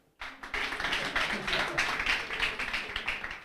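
Audience applause at an inter-university public interest litigation moot court competition, a steady dense patter of many hands clapping that starts abruptly and continues throughout at moderate volume.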